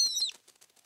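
Small cartoon bird in a French children's animation flapping its wings in a short fluttery burst after a bright whistling chirp, close and fading quickly into a few soft flutters.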